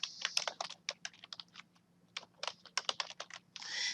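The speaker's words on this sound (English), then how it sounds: "I'm going to type in here law enforcement" Fast typing on a computer keyboard, a close run of crisp key clicks in quick bursts with a brief pause midway, fairly quiet over a faint steady hum.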